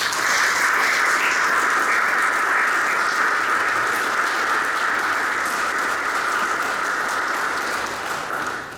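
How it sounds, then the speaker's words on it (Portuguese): A live audience at a Portuguese book presentation on neorealist drama gives a loud, sustained round of applause lasting several seconds before it tapers off at the end. "peço uma salva de palmas muito sentida"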